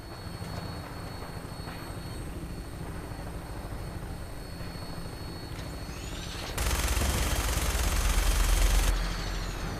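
Aircraft engine drone while flying over a battle in Fallout 4, a steady hum with distant gunfire, then a loud roaring surge near the end before easing back.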